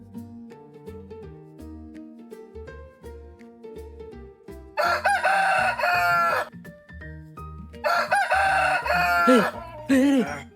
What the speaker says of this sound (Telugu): కోడి కూసిందిరా